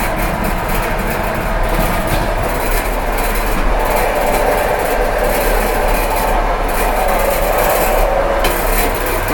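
Inside the first carriage of an electric commuter train on the Fastiv–Shostka route, a loud, steady roar of rumbling wheels and rattling, rasping car noise runs continuously, close and unbroken.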